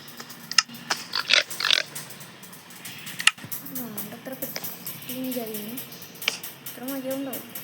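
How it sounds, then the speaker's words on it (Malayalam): Pig oinks from the Minecraft video game, several short grunts spread across the stretch alongside clicks and keyboard taps, with a person talking over the gameplay. "ഈ പന്നിയുടെ സൗണ്ട് കേട്ടിട്ട് പിഗ്ഗ്ലീനാണെന്ന് വിചാരിക്കും ഞാൻ"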